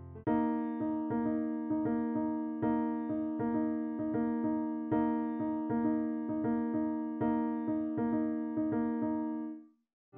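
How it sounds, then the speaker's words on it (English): Repeated clustered attacks of harmonic tones, likely piano, sound out a 5-against-3 polyrhythm in a steady loop for around ten seconds. The pattern ends with a final sustained decay, and no speech is heard. "5-3 polyrhythm sounds like this."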